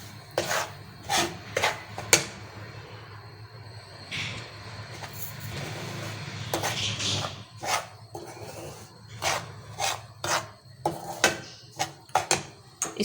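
Semolina and flour being roasted together in a pan for aloe vera halwa, a series of close scraping strokes repeating in an irregular rhythm over a low steady background, with no talking.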